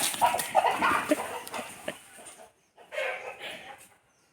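Soft clucking from a chicken nearby, a few short calls in a quiet outdoor setting.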